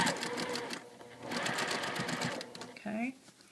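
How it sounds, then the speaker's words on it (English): A sewing machine stitches a quarter-inch quilt seam, its fast mechanical whirr running in two bursts with a short pause between, close and steady, followed by a brief pitched squeak near the end. "Now I'm going to sew my 1/4 inch seam."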